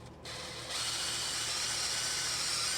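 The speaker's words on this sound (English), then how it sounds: "So I drill the hole just so I can use the factory bolt that'll go in." Power drill boring a hole in the rectifier cage of a Honda CB350 motorcycle, starting with a short burst then settling into a steady high whine with no talk.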